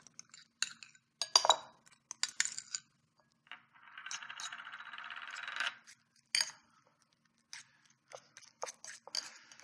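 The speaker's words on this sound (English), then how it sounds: "First thing we're going to do is mix in some mayonnaise." Clinking of a utensil against a bowl while mayonnaise is mixed into mashed hard-boiled egg yolks for a filling, heard as scattered close taps and scrapes with a steadier stirring rasp in the middle, no talking.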